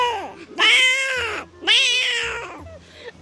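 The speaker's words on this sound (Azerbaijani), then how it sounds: "Bəs ac və çox belə dəhşət yemək axtaran pişik səsi." A hungry house cat meows loudly up close, two long drawn-out wailing calls followed by a shorter, fainter one, with no talking.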